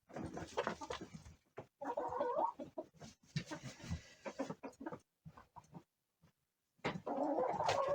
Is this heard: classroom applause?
no